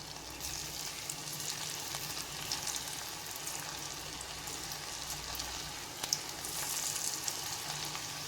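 Potatoes frying in groundnut oil in a kadai give off a steady, close sizzle, an even bubbling crackle that holds for the whole stretch with a few sharper pops.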